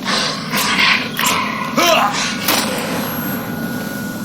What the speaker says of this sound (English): I don't want to waste ammo on dipshit dogs of any sort.